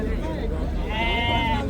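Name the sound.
dairy goats bleating at a livestock market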